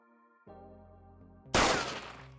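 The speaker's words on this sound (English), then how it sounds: "Turns out gunfire works better." A single loud blast of gunfire cracks out abruptly after a sustained synthesized tone and lower droning chord, its burst decaying over the final second.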